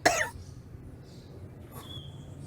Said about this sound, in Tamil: எவ்வளோ நாளாக இருக்குது இருமல்?